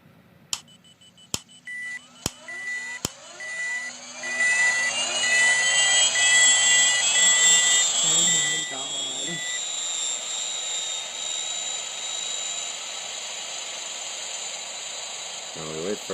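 Airbus A380 jet engines spool up at startup in a flight simulator game, a rising whine climbing into a loud sustained roar after a few sharp clicks, with people talking over it.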